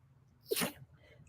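One sharp sneeze, close and sudden, over a quiet background.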